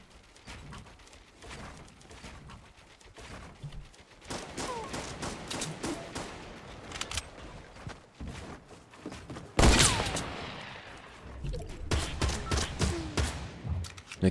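Gunfire from a new weapon in Fortnite Battle Royale: scattered bursts of rapid shots over roughly fourteen seconds, mostly fairly quiet, with one sharp, louder volley near the middle and a denser spell of firing toward the end.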